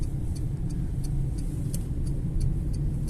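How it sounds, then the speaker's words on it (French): Inside a moving Renault Zoé electric car, a steady low road drone fills the cabin while faint, evenly spaced high ticks of a small electric noise recur throughout. "on entend le petit. Ouais, ça c'est normal, le petit bruit électrique"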